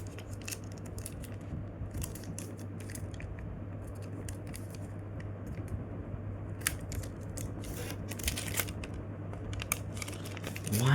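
Paper folded by hand into an origami jet plane, giving soft intermittent crinkles and sharp creasing rustles over a steady low hum, with no talking.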